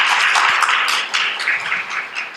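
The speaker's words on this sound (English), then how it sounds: "So please give a big round of applause for Dr. Beverly Guy-Sheftall." Steady, dense applause from an audience at a 2013 women's studies symposium at Albany State greets a speaker, holding a fairly even level throughout with no voices over it.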